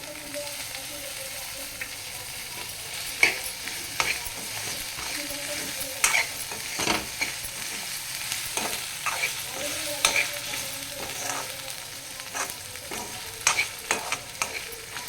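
Tomato pieces frying for methi dal hiss softly in a pan while a utensil scrapes and knocks against it in irregular bursts, close by and without speech.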